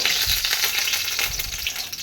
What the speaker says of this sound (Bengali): কড়াই গরম হয়ে গেছে আর কড়াইতে এখন দিয়ে দিচ্ছি তেল